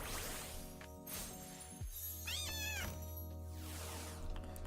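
A cat meows in the Minecraft video game, with several clear, fairly loud calls over steady game music and background sounds.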